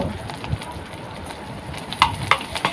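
Chopped onion and green chili sizzle in hot mustard oil, a steady frying hiss broken by sharper pops and crackles, close and moderately loud with no talk.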